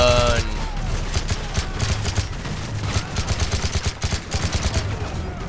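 Sustained rattling automatic fire from a first-person shooter game, dense and continuous with a loud muffled blast at the start, mixed with other battle noise.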